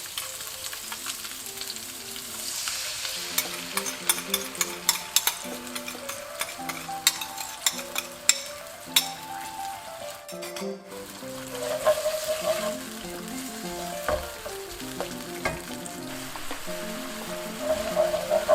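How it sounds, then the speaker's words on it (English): Pre-made sweet and sour sauce cooking in a pan for crispy Chinese-style pork, a continuous close sizzle with scattered clicks and stirring, while music plays over it. "So now I put the pre-made sauce."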